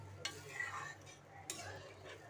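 A spoon stirs chana dal with water in a cooking pot, giving two or three close scraping, swishing strokes over a low hum.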